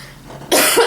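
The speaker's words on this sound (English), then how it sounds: "I'm still trying to get over this cough" A single harsh cough, loud and close, bursting out after a moment of quiet room tone.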